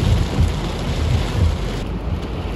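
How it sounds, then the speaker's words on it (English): Heavy rain pounds on a car with someone sitting inside, a dense, loud, unbroken roar with low rumbling and no voices. "it started raining so freaking bad"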